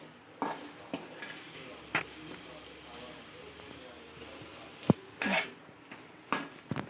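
Ivy gourd and onion fry is stirred in a pan with a spatula, giving scattered scrapes and knocks over a soft, steady sizzle, with a louder cluster of scrapes near the end and a voice speaking now and then.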